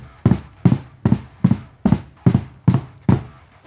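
Bass drum flams played with multiple pedals land as eight heavy, evenly spaced doubled thumps, each strike closely followed by a second hit, close and punchy with short decays between.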